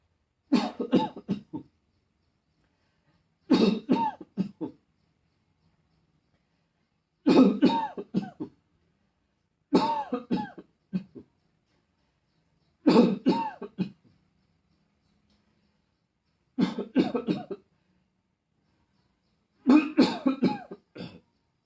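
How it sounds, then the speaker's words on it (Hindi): Deliberate fake coughing done as a yoga breathing exercise for the lungs, heard as seven evenly spaced bursts of several forced coughs each, close and clear with silence between bursts and no talking. "ऐसी नकली नकली खांसी करना है 2 3 मिनट के लिए।"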